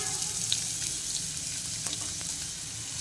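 Chopped onions hiss and sizzle in hot oil along with cinnamon, cloves and cardamom, a steady close frying crackle that runs the whole time without any voice.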